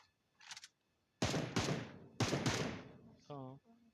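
Gunfire in PUBG, with two loud bursts of rapid shots close up, each fading quickly, plus a few brief in-game sounds before and after and no one speaking.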